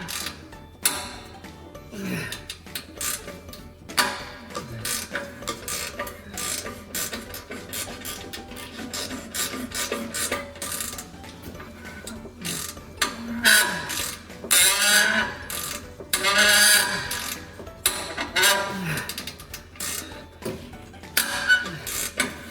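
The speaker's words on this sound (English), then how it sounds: "Honestly, I've not dangled off this ratchet one bit." A ratchet clicks steadily while working a tap in a garage, irregular bursts of pawl clicks and mechanical rubbing repeating close by for over twenty seconds with no talking.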